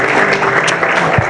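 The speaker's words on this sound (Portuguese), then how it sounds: "Uma salva de palmas para o Lindomar." An audience at an academic event on child abandonment and adoption gives a short burst of dense, continuous clapping that fills the whole moment.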